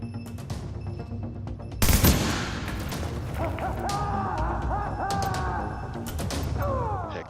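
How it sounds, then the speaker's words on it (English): Automatic turret in The Division firing rapid bursts of gunfire, with a sharp loud blast near the start followed by sustained, dense shooting and crackling effects throughout the game battle. "when I put the turret down, that does a lot of shooting"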